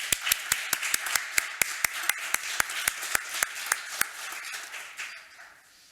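A seated audience at an academic talk on meditation claps in a sparse, evenly spaced rhythm of distinct, sharp hand claps that thin out and fade near the end.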